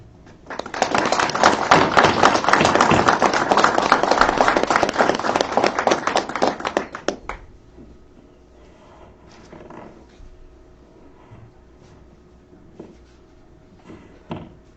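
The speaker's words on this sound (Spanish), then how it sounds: "Brindémosle un fuerte aplauso" An audience claps steadily for several seconds, loud and dense, then the applause fades away into a quiet room with faint scattered noises.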